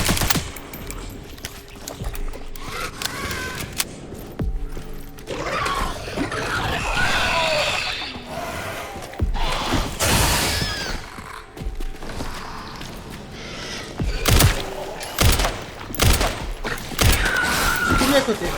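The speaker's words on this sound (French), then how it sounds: "je lui tire je ne sais combien de balles dessus" Gunfire aimed at an enemy in the video game Resident Evil Requiem: repeated loud shots and bursts, some rapid, scattered among game noises, with a person talking over parts of it.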